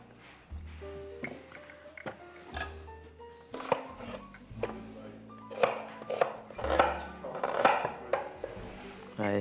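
Onion chopped coarsely with a knife on a board, a series of close, irregular thumping cuts with some scraping and clatter of utensils, building to a quicker run of chops in the second half, without talk.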